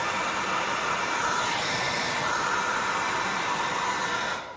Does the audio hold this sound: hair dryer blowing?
yes